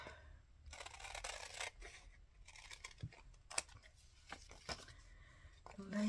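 Paper labels from a printed digital kit being cut with scissors at a desk: close crisp snips and rustling paper in short bursts, with a few sharper clicks and quiet talk.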